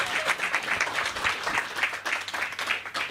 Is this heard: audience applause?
yes